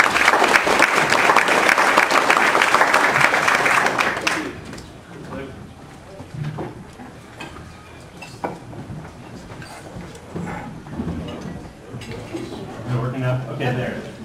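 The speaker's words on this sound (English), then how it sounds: "if you could please give him a big round of applause" Loud, dense applause from an audience welcoming a CEO speaker at a business presentation fills the first few seconds and then breaks off, followed by quieter room noise and someone talking.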